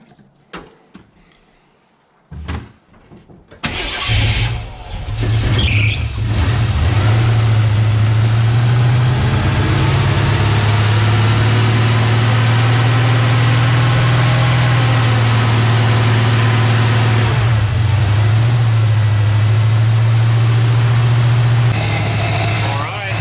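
Small engine in a DPV shop, fitted with a double throttle return spring, starts with a few knocks and then roars loud and steady at high revs, holding a constant drone for most of the span before a slight shift near the end.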